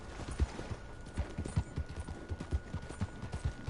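Horse hooves clip-clop in Red Dead Redemption 2 at a steady walking rhythm, close and clear over a constant low background hum.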